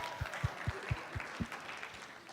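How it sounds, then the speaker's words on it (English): An audience at a high school poetry recitation finals claps steadily, with regular thumping beats over a dense, moderately distant wash of applause. "Let's give a round of applause to them"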